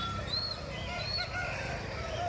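Roosters crow at a busy village chicken market in Kundarapalli, high calls rising twice above a dense background of clucking fowl and crowd murmur.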